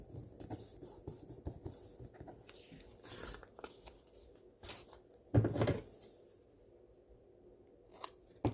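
Scissors cut paper for a handmade hinged envelope in a series of quiet, irregular snips and rustles close by, with a louder cluster of cuts midway and a brief pause before a final snip.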